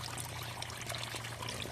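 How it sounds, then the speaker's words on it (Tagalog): Clean water pours and trickles out of a homemade crayfish water filtration setup, a soft, steady splashing flow with a low hum underneath, fairly faint and without talk. "kita naman natin na napakalinis ng tubig na lumalabas"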